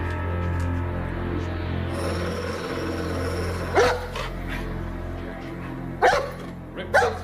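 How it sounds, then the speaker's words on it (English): A pet dog inside a house gives a few sharp barks, mid-distance, over a steady background hum. "All of a sudden, she started barking."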